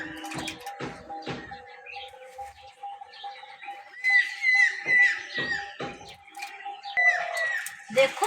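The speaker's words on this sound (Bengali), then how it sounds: "দেখুন কত সুন্দর পাখি ডাকছে" Birds call and chirp around a village home in spring, with bright, scattered whistles that grow busier toward the end, mixed with a few household knocks and faint voices.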